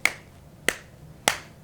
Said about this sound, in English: Can you just clap a few times?